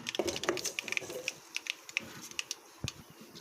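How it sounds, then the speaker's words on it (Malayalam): Mustard seeds pop in hot oil left over from frying pappadam, giving a quick, irregular run of sharp little cracks and ticks at low volume. "കടുക് പൊട്ടി വന്നിട്ടുണ്ട്."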